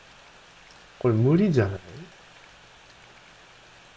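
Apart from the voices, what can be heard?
rain in the horror video game Ao Oni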